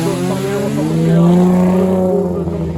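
A Peugeot 206 class 3 race car at the start line of a hill climb in Ardèche, its engine droning steadily and loudly with a rising harmonic pitch throughout, close by, while a voice talks over it.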